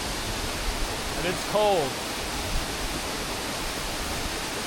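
A waterfall in Bali, part of a staircase of falls, gives off a steady broadband rush that stays even throughout, while a voice speaks a few words briefly near the middle.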